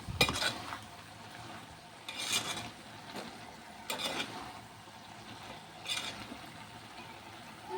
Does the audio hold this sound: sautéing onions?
yes